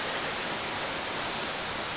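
Takapala waterfall near Malino, South Sulawesi, pours in a dense, continuous rush of falling water that fills the whole span evenly and loudly, with no voices.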